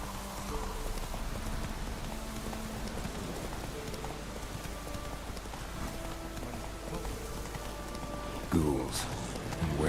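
Horse hooves clip-clopping at a steady galloping rhythm while riding through Velen in The Witcher 3, a continuous mid-level beat under game ambience, with a voice briefly speaking near the end.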